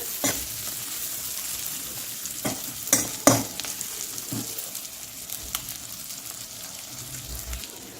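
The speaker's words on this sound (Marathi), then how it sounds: "आपण झाकण ठेवून देऊ दोन मिनिट मिरची वाफवली मस्त फ्राय होईल" Green chilli peppers frying in a covered pan for mirchi fry, a steady soft sizzle with a few sharp clinks and pops from the lid or spoon, close and without voices.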